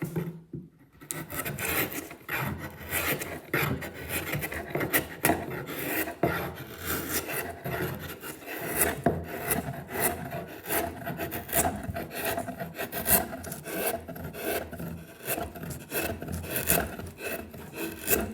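Inshave scraping across wood, a close, steady rasping and shaving sound in repeated strokes with no talk.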